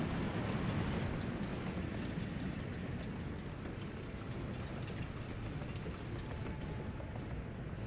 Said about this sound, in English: Now this is going to be our first passenger trains.